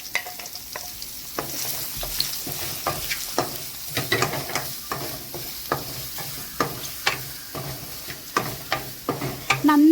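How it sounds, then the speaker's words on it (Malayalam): Chopped onion sautéing in a pan with dried chillies, a steady sizzle broken by regular scraping strokes of a spatula. No one speaks. "അരിഞ്ഞു വെച്ച സവോള നമുക്ക് അതിലേക്ക് ചേർത്ത് കൊടുക്കാം എന്നിട്ട് നന്നായിട്ടൊന്ന് വഴറ്റിയെടുക്കാം"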